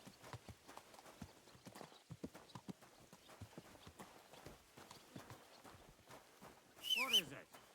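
Horse hooves clip-clopping at a steady walking rhythm while riding in Kingdom Come: Deliverance II, a medieval video game, with quiet voices talking over the hoofbeats and a brief horse whinny near the end.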